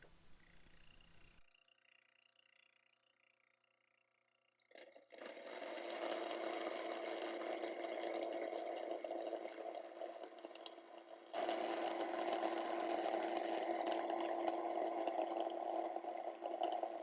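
A Mockmill grain mill grinds fresh flour for sourdough bread, a loud steady whirring grind that starts after a few quiet seconds and runs continuously, growing louder partway through.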